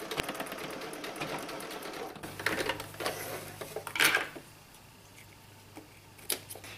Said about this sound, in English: I'm going to switch now to a default zigzag stitch to heal that edge.